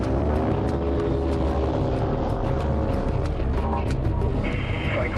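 Predator drone aircraft taking off: a loud, continuous engine and propeller drone with a rough broadband roar, steady and close, with no talking.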